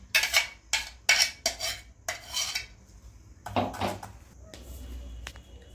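Metal scraping and clattering of a spoon worked against a sieve in short bursts as mixed-vegetable gravy is strained, then a quieter stretch of lighter scrapes and taps.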